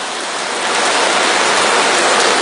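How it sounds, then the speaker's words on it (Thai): Heavy rain pours in a steady, dense hiss that swells louder after the first half second and stays loud, with no voices over it. "เสียงฝนมันดังมาก"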